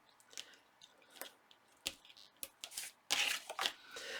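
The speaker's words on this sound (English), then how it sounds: "I'm just going to tape those 2 edges right here" Two edges of a paper pocket are taped down with sticky tape, quiet close-up crinkling and tape rasps in short bursts, ending in a louder tearing stretch.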